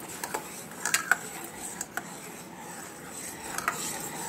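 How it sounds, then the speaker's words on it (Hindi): Stirring milk with chhena in a kadhai while cooking rabdi gives soft scrapes and a few light clinks of the spoon against the pan, quiet and close, with no one talking. "अब इसको दोनों को मिक्स करके हम इसको पकाएंगे।"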